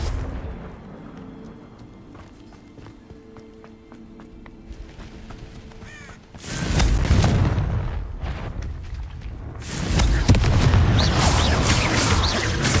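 A Confringo fire-blast spell in Hogwarts Legacy bursts loudly after a quiet stretch, with two heavy explosive roars, the second swelling and sustained to the end.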